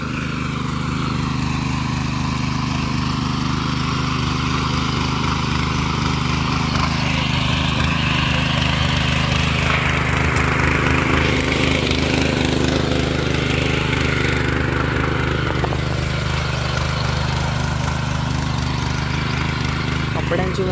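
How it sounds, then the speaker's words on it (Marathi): A tractor ploughing a muddy field with its steady engine drone running continuously and loudly throughout, while someone talks over it. "ट्रॅक्टर मी पण चालवतो आहे थोडा वेळ"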